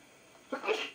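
A single sharp sneeze bursts out after a quiet stretch, close and fairly loud, then trails off with a breathy fade.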